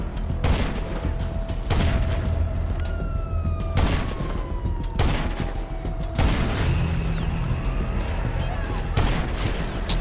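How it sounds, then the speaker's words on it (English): Tank cannon blasts in GTA Online, four or five heavy booms spaced a couple of seconds apart amid constant gunfire and a wailing siren in the background. "he got a tank out"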